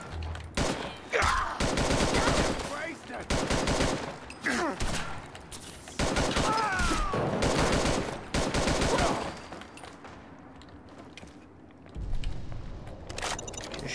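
Rapid bursts of gunfire and explosions from the Fallout 4 video game, crackling in loud clustered volleys with short lulls, mostly without speech.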